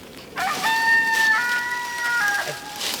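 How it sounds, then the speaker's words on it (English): A chicken in a barn crows and clucks, a drawn-out tonal call rising and wavering for a couple of seconds, fairly close and clear over quiet background noise. "Uh-oh, here come the chicken."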